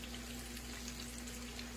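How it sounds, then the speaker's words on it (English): Chicken strips frying in hot grease give a steady, dense sizzle and crackle that holds evenly throughout, quiet and with no talking. "All right, now that it's frying good"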